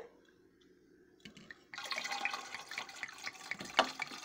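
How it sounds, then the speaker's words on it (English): Red wine pours steadily with a bright, splashing gurgle after a quiet start, growing fuller as it fills. "we're going to pour the red wine in."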